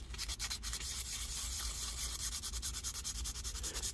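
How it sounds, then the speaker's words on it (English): Sandpaper rubs back and forth across a Chevy Tahoe rearview mirror mount, roughening it before gluing, in a steady close rhythmic scratching with no talk. "we're going to sand this to make some scratches to make the glue stick that much easier"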